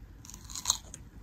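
A single close crunchy bite into a firm peach is followed by faint chewing in a quiet room.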